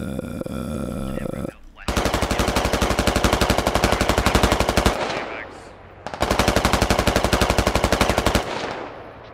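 A teammate's automatic weapon rattles in Squad in two long, rapid, evenly paced bursts of loud, close machine-gun fire separated by a short pause, with a brief voice at the start.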